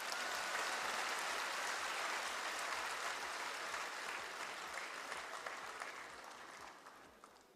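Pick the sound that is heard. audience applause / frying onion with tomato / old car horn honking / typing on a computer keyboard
audience applause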